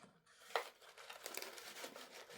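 Paper being cut with scissors while building an origami robot of Chainsaw Man's Samurai Sword, a faint crinkling and snipping that opens with one sharper crisp cut and is followed by soft, irregular rustling close by.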